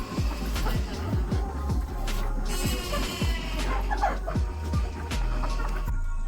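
A flock of hens and roosters at a village poultry farm run by a women's group in the Konkan region clucks and calls steadily, with repeated sharp squawks over a constant barnyard din.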